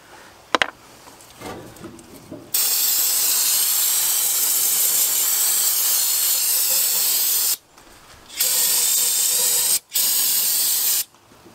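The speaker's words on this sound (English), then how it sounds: "That's this carbon choke cleaner." Aerosol carbon choke cleaner sprayed onto dirty engine parts during cleaning, a loud steady hiss lasting about five seconds, then a short pause and two more bursts, close to the mic.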